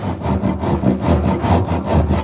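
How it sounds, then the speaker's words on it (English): A handsaw cuts into plywood at the ends of a hinge mortise: loud, close, rhythmic rasping strokes, about five back-and-forth passes in a steady sawing rhythm. "I'm going to saw first at the extents of my hinge"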